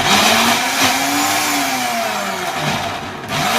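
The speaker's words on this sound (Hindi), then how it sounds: "प्याज डालने के बाद फिर हम इसको थोड़ा सा और ब्लेंड करेंगे" A kitchen blender whirring through salsa with chopped onions, a loud steady motor whine that dips and rises slightly as the chunky mix churns, close and continuous without speech.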